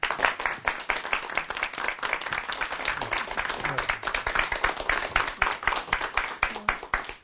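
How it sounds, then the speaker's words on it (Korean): Lecture audience claps for a professor being introduced, a close, dense burst of individual hand claps lasting several seconds without speech. "큰 박수 부탁드립니다"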